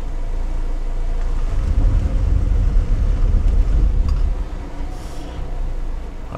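A Lada Niva 4x4 in low range drives its wheels on rollers with one wheel on the ground, a steady, loud low engine rumble and spinning drone with windy noise and no talking.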